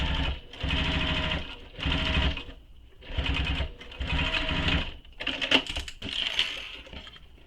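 A sewing machine top stitching fabric: loud, steady mechanical whirring in repeated bursts of about a second each, separated by brief pauses, close and alone.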